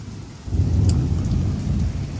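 Steady heavy rain with a deep low rumble underneath, continuous and fairly loud, no voices.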